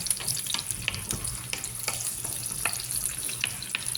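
Potatoes frying in butter in a pan, a steady close sizzle broken by light scraping and stirring clicks at irregular intervals.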